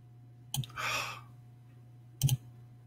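A computer mouse gives two short, close clicks a couple of seconds apart, over a faint steady hum in a quiet room.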